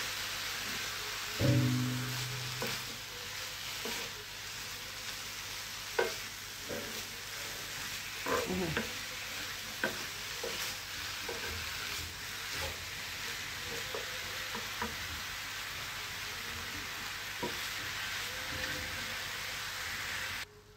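Dry elbow pasta is stirred and toasted in a hot pan. A quiet, continuous sizzle runs throughout, broken by scattered scraping strokes and clinks of a spoon against the metal.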